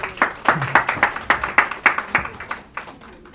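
Applause for a speaker taking the stage at an Ayurveda Day 2025 event: a small audience claps in uneven, fairly sparse bursts, with a few sharp individual claps standing out near the front before it thins and fades.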